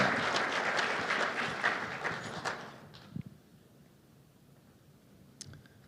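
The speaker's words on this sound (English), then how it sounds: "Let's give him a round of applause" At a mayor's State of the City address, an audience applauds in a fairly quiet burst that tapers off after about three seconds, leaving a few scattered claps and room noise.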